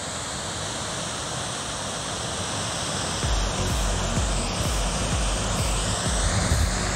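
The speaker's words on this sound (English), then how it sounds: "gorgeous waterfall, really beautiful." A steady, broadband rush of a waterfall in Kakwa Provincial Park fills the scene, with a low rumbling layer swelling in about halfway through.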